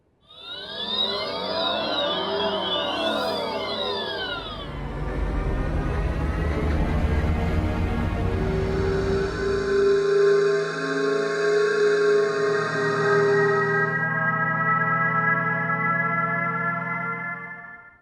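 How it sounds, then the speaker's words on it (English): A sequence of different synthetic electric car pedestrian warning tones, sweeping whirs, hums and sustained electronic chords, each playing briefly before changing to the next, with no talking. "Are you familiar with the acoustic alert for pedestrians?"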